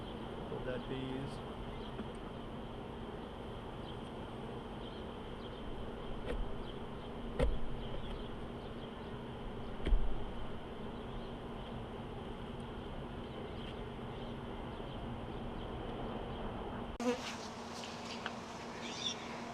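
A steady, low insect buzz of many honey bees hums throughout a hive inspection, with occasional soft thumps and a brief clatter near the end.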